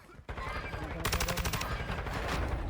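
Video game gunfire from an online shooter crackles in quick bursts, with a rapid string of near, loud shots in the middle over steady game noise.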